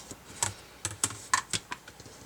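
Sharp clicks and crisp slices sound close by as a rotary cutter runs along a 6.5-inch-wide ruler through fabric, cutting squares for a quilt. About eight irregular taps and scrapes come in quick bursts, with no voices.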